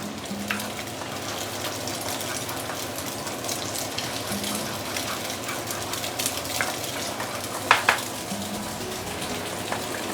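Beehoon rice noodles being stirred and fried in a wok give a steady close sizzle, with scraping and clatter of the utensil and a couple of sharper clinks near the end.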